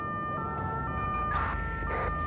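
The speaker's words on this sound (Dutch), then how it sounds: "Dat was ambulance." An ambulance siren in the GTA 5 video game, modded with LSPDFR, wails as a steady, tonal electronic siren that stays loud and continuous throughout, with no one talking over it.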